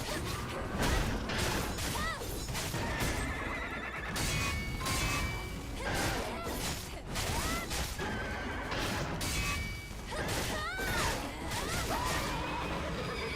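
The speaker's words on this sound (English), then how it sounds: "He still sounds like a horse." Neighing from a horse-like creature in the video game Stellar Blade, repeated whinnies over loud continuous game action with crashes and whooshes throughout.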